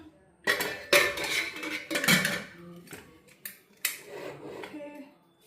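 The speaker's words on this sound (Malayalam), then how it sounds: "ഇളക്കി കൊടുക്കാം" A spoon clanks and scrapes against a metal pot in a few irregular strokes, loud and close, with short pauses between.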